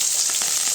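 Onion, garlic and curry leaves fry in hot oil for a Tamil tomato kuzhambu. The sizzle is loud and steady, close up, with soft spoon strokes of stirring running through it and no voice.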